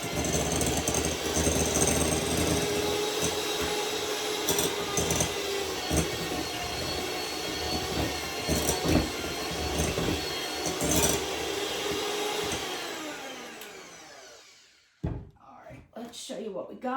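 An electric mixer creams cream cheese for a dessert pizza, giving a continuous loud, gritty whir that runs for most of the stretch under a talking voice, then cuts off into a few clattering knocks.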